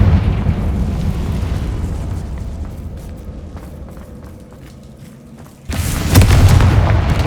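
A Confringo spell bursts in Hogwarts Legacy with a deep, loud boom that rumbles and fades, followed a few seconds later by a second sharp, heavy blast.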